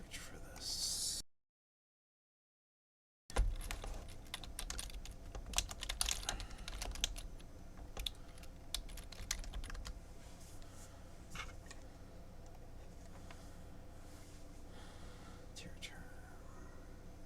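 Rapid clicking keystrokes on a computer keyboard at a workbench, steady and fairly close, broken by a short silent gap near the start, with soft whispered talk alongside.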